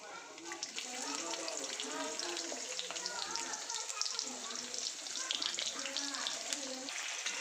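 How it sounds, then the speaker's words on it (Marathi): Onions sizzling steadily in hot oil in a pan with cumin and garlic for noodles, a continuous crackling fry that holds level throughout. "नंतर आपण टाकू कांदे।"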